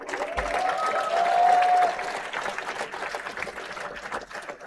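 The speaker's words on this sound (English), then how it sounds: "A round of applause to them." Audience clapping at a university convocation ceremony, a full burst of applause that swells then tapers over a few seconds, with a brief whistle-like tone above it.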